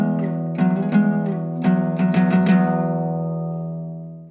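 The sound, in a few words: acoustic guitar playing a song verse with open E drone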